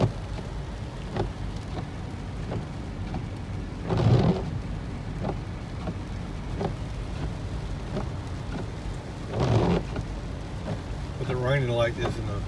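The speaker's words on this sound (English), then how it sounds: "With it raining like this and the clouds up in the mountain" Rain falls in the mountains of Denali National Park, heard from inside a vehicle as a steady patter with a low rumble beneath and a few louder swells.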